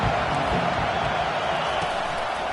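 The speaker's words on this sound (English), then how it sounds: "This crowd bringing the energy and noise early." Steady roar of a stadium crowd at a college football game in NCAA 25 between Notre Dame and Virginia, a dense continuous wash of noise without distinct peaks.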